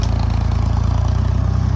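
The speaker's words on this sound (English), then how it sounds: "Let the tractor warm up a little" A tractor engine idles while warming up, a loud, steady low throbbing chug with an even pulsing rhythm close by, with no voices over it.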